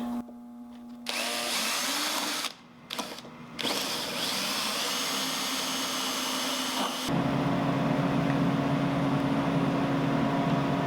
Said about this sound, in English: So I got a 3/16 inch bit in. I'm going to drill in here,